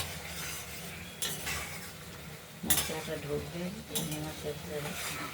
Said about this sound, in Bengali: এবার ভেজে রাখা মাছগুলো আমরা কষানোর মধ্যে দিয়ে দেবো